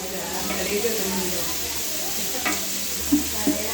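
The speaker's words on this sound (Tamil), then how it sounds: "நல்லா வெங்காயத்தை இந்த மாதிரி வதக்கிக்கிங்க அப்பப்போ வெங்காயத்தை இப்படி ஒரு திருப்பு அப்படி ஒரு திருப்பு திருப்பிக்கணும்" Onions sautéing in a pan for seeraga samba mutton dum biryani, a steady close sizzle with a few scraping stirs of the spoon, while someone talks over it.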